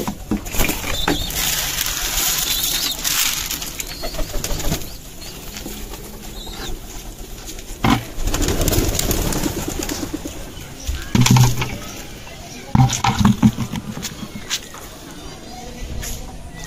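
Racing and giribaz pigeons in a home loft near Sonamasjid, Chapainawabganj, give soft, repeated coos while wings flap in bursts nearby, mixed with someone talking.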